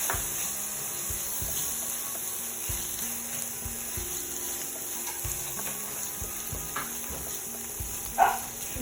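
Beef and mushrooms sautéing in a pan for an extra creamy dish, a steady close sizzle that runs throughout, with occasional stirring clinks and one sharp scrape near the end.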